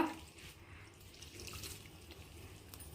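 Water runs and splashes quietly into a cooking pot while making rasam, a soft continuous pour with faint dribbling, heard alone.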